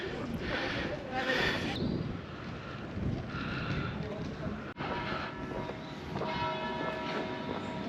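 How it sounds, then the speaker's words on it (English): Church bells of Saint Giorgio in Portofino ring out at 3 p.m., a steady tolling carried over a busy outdoor town ambience with some voices in the background. "church bell towers go, indicating that it's 3 p.m."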